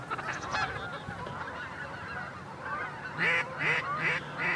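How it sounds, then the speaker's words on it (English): A flock of ducks and geese at a duck hunt gives loose, overlapping honks, scattered calls early on and a louder cluster of rapid honks toward the end, moderately close. "all these ducks and geese"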